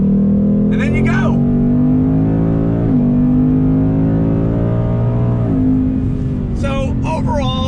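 A 2021 Ford Mustang GT V8 muscle car accelerates on throttle, a loud, deep engine drone rising in pitch through several gear changes, heard from inside the car with a voice briefly talking over it.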